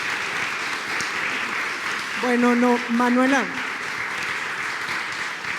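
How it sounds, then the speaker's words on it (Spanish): Audience applause at an event at a museum and botanical garden, a steady wash of clapping throughout, with someone speaking briefly over it partway through. "Démosle un fuerte aplauso a estas 2 mujeres maravillosas."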